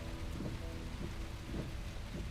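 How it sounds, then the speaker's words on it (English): Heavy rain pours steadily in a thunderstorm for an audio drama, a dense, continuous hiss of falling water with low rolling thunder rumbles swelling and fading underneath, no voices. "as the rain sets in."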